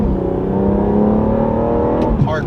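BMW F36 440i accelerating to 40 mph during brake bedding with an R1 Concepts slotted and drilled brake kit, a loud close engine drone with rising harmonic tones that ends in a brief rustle.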